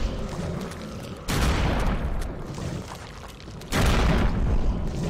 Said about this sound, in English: Just headshot with the shotgun.